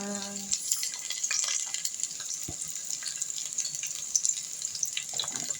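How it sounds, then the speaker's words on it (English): Garlic and onion hit hot oil and fry with a steady, moderate sizzle, a few small clicks and spatters scattered through the hiss. "So the oil is hot and ready, guys. Let me just put in my garlic,"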